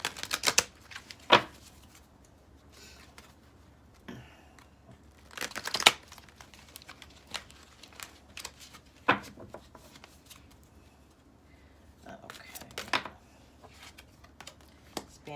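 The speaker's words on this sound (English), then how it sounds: "let's pull some clarifying cards. Just shuffle these a little bit." Tarot cards being shuffled by hand in several short riffling bursts spread irregularly through a quiet room, close and crisp with pauses between.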